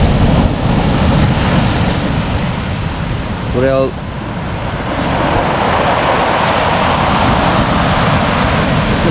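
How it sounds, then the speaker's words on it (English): Sea surf breaking on an Irish shore during cod fishing, a continuous loud wash of waves and wind filling the whole clip, with a brief voice speaking over it. "still a good bit of surf out there"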